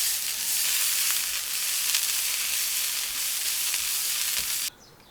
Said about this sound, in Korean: 부추는 숨이 죽을 정도로만 살짝 볶고 당근은 소금을 살짝 뿌려 볶아낸다